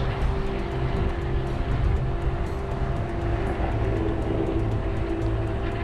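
A touring bicycle rolls over road rumble strips on a ride around Lake Michigan, giving a loud, steady, close droning rumble with a faint buzzing hum throughout and no talking.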